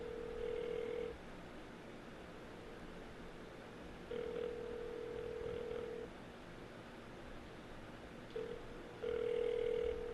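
A telephone ringback tone on a live on-air call, sounding in steady repeated bursts with pauses between them. It is clear and alone, with no talking over it.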